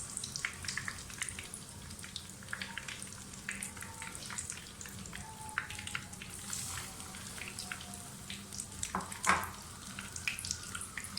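Spicy potato cutlets fry in a pan with a steady, soft crackling sizzle, continuous and fairly quiet, with occasional louder pops.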